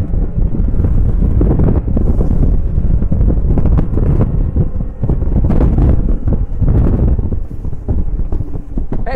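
Ranieri Cayman 28.0 Executive motorboat accelerating at full throttle, a loud continuous roar of engine, hull and water rush heavily mixed with wind buffeting on the microphone, no talk.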